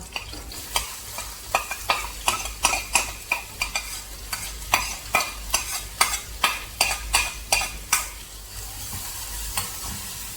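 Onion with two or three curry leaves and asafoetida fries in oil while being stirred, a steady sizzle punctuated by a regular series of sharp spoon scrapes and clanks against the pan, close and without talk.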